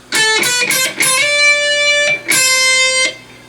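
A distorted lead guitar plays a short run of sustained notes from a song, with a sliding pitch shift between them and a long held note at the end.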